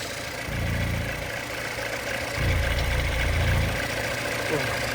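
A 2013 Mini Cooper 1.6 petrol engine idles close by with a steady low rumble whose level swells and eases slightly over the few seconds, running alone without talk.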